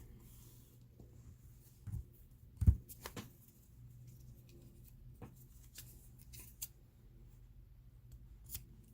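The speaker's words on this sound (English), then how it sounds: "Trim that one." A single crisp snip of scissors trimming the end of velvet yarn on a crocheted scrunchie, quiet and close, with soft handling rustles before and after.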